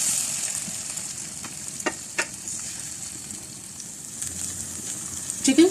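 Chicken skewers frying in a few spoons of oil in a frying pan, a bright steady hiss of sizzling oil with a few soft pops and clicks, loudest toward the end.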